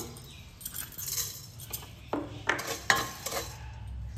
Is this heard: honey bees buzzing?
no